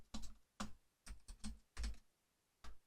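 Keys on a computer keyboard tapped in short separate bursts, about seven quick clicks in an irregular rhythm, close by and fairly quiet with no talking.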